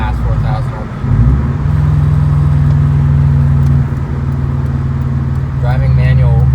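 A Subaru WRX engine drones and rises as it is revved past 4,000 RPM on a road, a steady, loud cabin hum that steps up early, with a person talking over it.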